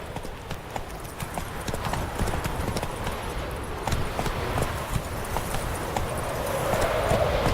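Roach, the horse in Witcher 3, trotting along: steady rhythmic hoof clip-clop close by, with continuous game ambience and a faint voice in the background.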